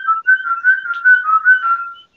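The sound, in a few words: person imitating a bird's whistling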